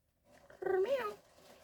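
A single drawn-out meow with a rising and falling pitch, moderately close, with no talking around it.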